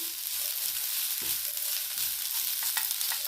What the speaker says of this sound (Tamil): முருங்கைக்கீரையை லைட்டாக ஃப்ரை பண்ணிக்கலாம் லைட்டாக வதக்குனா போதும்